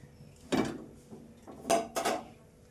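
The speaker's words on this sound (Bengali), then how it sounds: "আমি গ্যাস অন করে কড়াইটা বসিয়ে দিলাম।" A metal wok clanks down onto a gas stove, a few short metallic knocks and scrapes in a quiet room.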